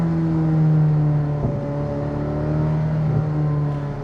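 Corvette ZR1 with a 1064-horsepower engine held at a steady, loud rev on a scenic road, a strong droning tone with two brief gear-shift dips, close and with no talk.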